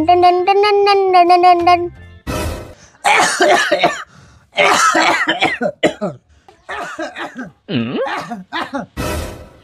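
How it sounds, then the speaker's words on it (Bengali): A person coughs in loud bursts, breaking up between stretches of singing and speech close to the microphone. "ওই যে আমার কাশাকাশি শুরু হইলো"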